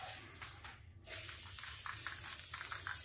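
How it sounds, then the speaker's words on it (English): Rust-Oleum Sea Mist spray paint hisses from an aerosol can onto a cellophane metallic epoxy surface in short, close bursts with a brief gap, then a steadier stream of spraying. "I'm going to spray sea mist across this. This is a Rust-Oleum sea mist."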